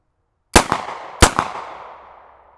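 Two sharp, loud pistol shots about two-thirds of a second apart from a Bergmann Bayard 1910/21 firing 9x23 rounds, each with a quick echo and a decaying outdoor tail, no talking.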